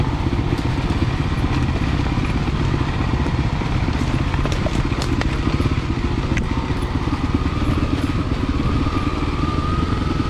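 A dual sport motorcycle engine runs steadily and close, with a loud, continuous low rumble and rattling clatter throughout.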